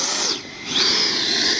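Electric ducted-fan motor of a Freewing Avanti S 80mm RC jet spinning up with a loud, high-pitched whine that dips briefly and then climbs steadily to a sustained scream.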